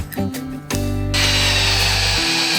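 A power drill snugs screws down on a hinge of a DIY wooden safety gate, a short, close whirring burst that rises in pitch, preceded by a few brief clicks and handling noises.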